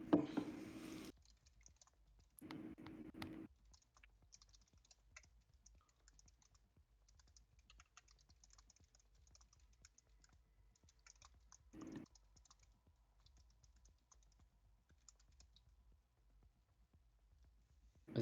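Quiet typing on a computer keyboard, with sparse soft keystrokes scattered throughout. Short bursts of voice come near the start and again around the middle.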